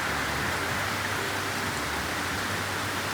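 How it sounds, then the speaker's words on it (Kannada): Heavy rain pours down in a steady, dense hiss, with no pauses and no voices for the whole stretch. "ಎಂಥ ಜೋರು ಬರ್ತಂತ ನೋಡಿ ಮಳೆ."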